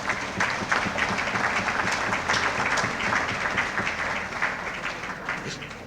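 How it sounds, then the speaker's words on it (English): Guests at a New Year's Gala give a round of applause, a steady, full wash of clapping from a sizeable crowd that carries on evenly from start to finish. "applause."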